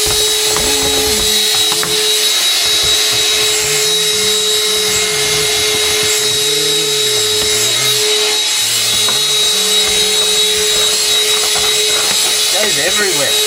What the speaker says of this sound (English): No, I'm going to vacuum myself